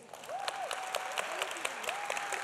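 An audience claps steadily with dense, continuous applause, heard at a moderate distance while a faint tonal whine rises and dips in the background.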